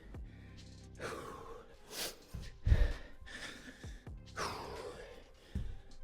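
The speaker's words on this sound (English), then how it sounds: "Try to slow down that breathing." Heavy breathing during a full-body follow-along workout, close gasps, sighs and snorting exhales coming in uneven bursts with quiet pauses between.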